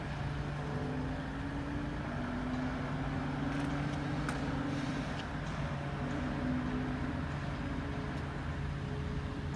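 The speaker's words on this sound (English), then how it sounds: "This will be 13:29 Freightliner service from Doncaster Europort to Felixstowe North." A Freightliner freight service from Doncaster Europort to Felixstowe North rumbles steadily past Metheringham level crossing, with a continuous low engine drone, wheel and rail noise, and brief higher squeals and clanks throughout.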